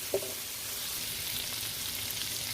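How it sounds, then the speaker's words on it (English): Sausage meat fries in a pan, a soft, steady sizzle that crackles continuously with one brief stirring clack at the start, fairly quiet and with no talking. "Stir the meat up a little bit and let it get some of the frying in"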